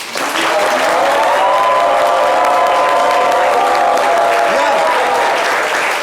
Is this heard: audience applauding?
yes